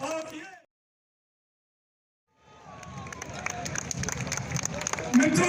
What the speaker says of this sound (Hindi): मित्रों, जोरदार ताली बजती रहे।